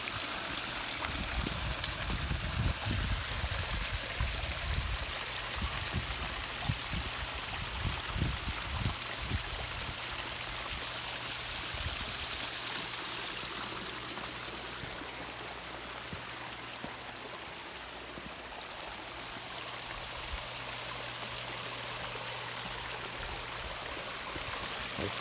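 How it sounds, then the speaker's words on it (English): A backyard water feature with a boulder staircase flows and trickles steadily, a continuous close splashing wash that stays even throughout with no talking. "Water sounds amazing."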